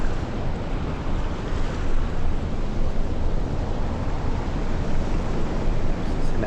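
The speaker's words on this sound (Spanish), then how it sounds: "Es el ambiente del mar" Continuous broadband wash of sea surf, steady and fairly loud, with a low rumble and no distinct wave breaks standing out.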